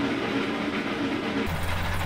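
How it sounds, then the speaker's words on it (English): A heavy steam train rumbles through a terminus station with a continuous low rolling roar and hiss, shifting midway into a deeper, steadier rumble. "The train soon was underway and rumbled through the terminus station."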